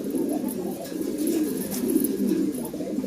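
Racing homer pigeons and doves coo continuously in a loft, several birds overlapping in low, throaty rolling calls, close and steady throughout.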